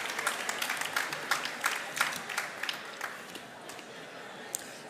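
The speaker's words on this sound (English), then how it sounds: "Can we have a nice round of applause for him," An audience at an evening leadership celebration claps for a musician, with dense applause and sharp individual claps that gradually thin and fade, a little distant.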